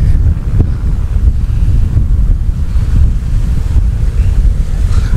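Ocean waves break on a California beach, a loud, constant low roar of surf mixed with heavy wind buffeting the microphone, with no voices heard.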